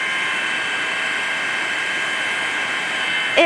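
A steady, loud mechanical drone of a police helicopter overhead during an earthquake rescue fills the whole stretch without letting up, with a brief knock at the end.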